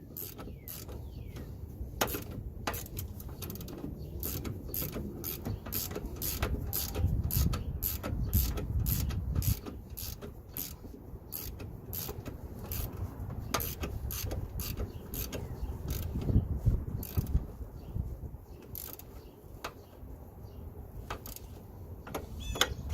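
Ratchet clicking as it tightens the locking nut on a ball joint during a BMW E36 front suspension overhaul, quiet repeated mechanical clicks in uneven bursts over a low workshop hum.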